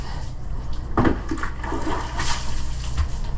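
Teak wood on a yacht is wetted with water in a loud, close, rushing splash and pour that runs continuously, with a slight surge partway through.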